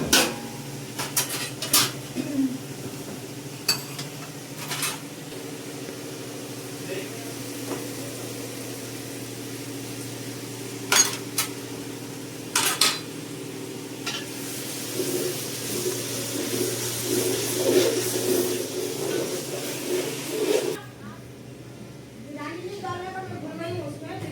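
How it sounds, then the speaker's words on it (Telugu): Biryani gravy is stirred in a pot, with intermittent scrapes and clinks of a spoon against the metal under a low steady hum, while someone talks throughout and a short muffled clatter comes near the end. "బాగా ఈ గ్రేవీ కొద్దిగా బ్రౌన్ అవ్వాలనేసి నేను కలుపుతున్నాను"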